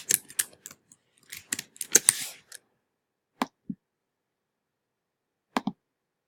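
Sharp, isolated clicks from a computer mouse while working in an online course discussion board, a rapid cluster of taps early on, then a few spaced single clicks later, close and fairly quiet.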